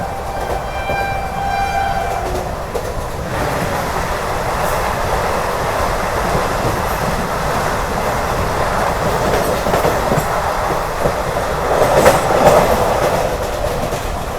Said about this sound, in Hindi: अभी फ़िलहाल भाई मैं हज़रत निज़ामुद्दीन रेलवे स्टेशन में